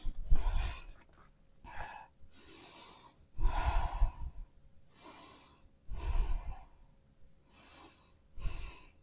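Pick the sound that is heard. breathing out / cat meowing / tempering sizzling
breathing out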